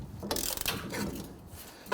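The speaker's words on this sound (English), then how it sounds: "you're going to use the ratchet going upward" A hand ratchet works on the rear brake caliper bracket bolts of a Nissan Frontier, giving a short run of close, rapid mechanical clicking with gear-like rattles over about two seconds.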